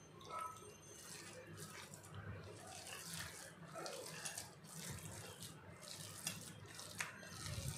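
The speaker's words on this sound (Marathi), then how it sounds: "हे बघा, याच्यामध्ये आणखीन थोडं पाणी टाकत आहे मी." More water pours into poha batter in a continuous gentle stream with faint splashing and dripping, close by and fairly quiet.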